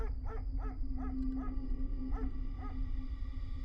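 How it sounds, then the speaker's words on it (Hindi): Dogs bark repeatedly in the distance on a quiet night, short yelping calls in irregular bursts over a constant low hum and hiss. "दूर कहीं कुत्तों की भौंकने की आवाज"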